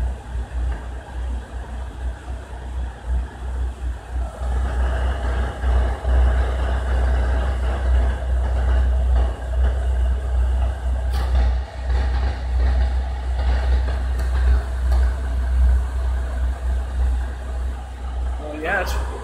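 A Suburban SF25 furnace in a Minnie Winnie RV runs with a steady low rumbling drone and airy blower noise throughout, loud and close, with a few brief clicks near the end.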